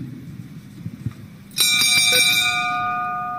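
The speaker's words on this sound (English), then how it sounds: "When the bell rings" A boxing ring bell at a Daniel Dubois vs. Joe Joyce fight at Church House in Westminster, struck a few times in quick succession and then ringing out loud with a long metallic sustain, following quieter crowd murmur.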